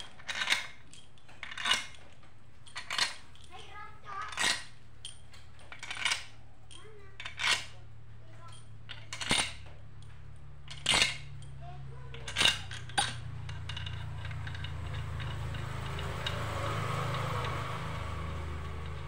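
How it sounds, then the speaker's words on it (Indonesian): Metal bolts being fitted into a Nissan X-Trail T30 engine during assembly, a series of bright metallic clinks and taps at a slow, irregular rhythm, close and clear over a quiet low hum. "Nah, ini untuk bautnya kita pasang."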